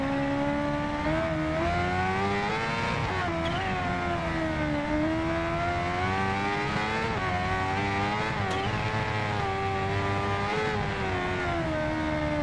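A 2015 supercharged Kawasaki Ninja H2R in the Ride 2 racing game roars continuously and loudly, its engine pitch rising and falling through revs and gear changes with a whining compressor note, with no talk.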